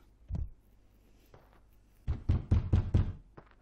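In the Kung Fu Panda video game on PS2, a door slams shut with one heavy thud, followed by a rapid run of loud wooden knocks and thumps.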